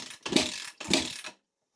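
A 2013 Kawasaki KX250F motocross engine is kicked over with the throttle wide open for a compression test, making two close mechanical ratcheting kick strokes before falling silent.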